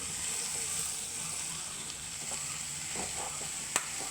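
Low, continuous sizzle of drumstick thoran being stirred in a hot pan until it steams, with a few faint scrapes and one small sharp click near the end, no talking.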